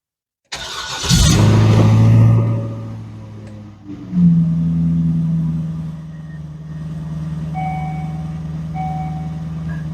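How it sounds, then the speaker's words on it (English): A Cadillac Northstar V8 cranks and catches with a loud burst, settles, then revs again before holding a steady idle, while a car's chime beeps repeatedly in the background. "Well, that's the sound of the Cadillac Northstar V8"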